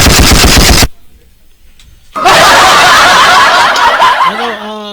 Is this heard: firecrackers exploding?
yes